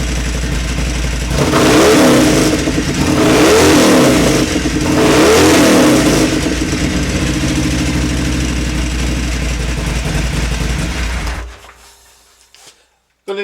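Harley-Davidson Sportster XL1200CX fitted with a Vance & Hines air filter, its engine rumbling steadily with three loud revving swells close by, then cutting off near the end.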